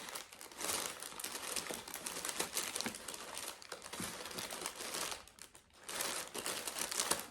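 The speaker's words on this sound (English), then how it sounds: "Rustle, rustle of the tissue paper." Tissue paper rustling and crinkling while a gift package is unwrapped, a dense, continuous papery crackle close by with a brief lull before more crumpling.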